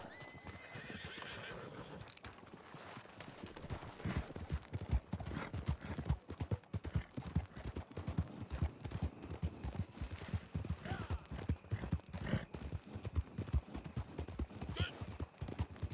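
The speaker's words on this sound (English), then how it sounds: "That's my horse!" Galloping horse in an outlaw-themed video game: steady rapid hoofbeats clip-clop close and loud for the whole stretch, with whinnies and neighs breaking in near the start and again later.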